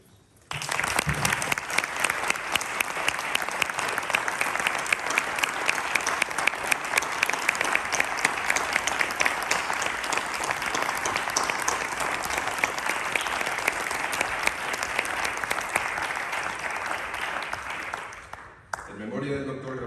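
Sustained applause from colleagues and friends at a memorial tribute to forester Rafael Currás Cayón during a forestry congress, steady and dense for nearly twenty seconds before tapering off abruptly near the end.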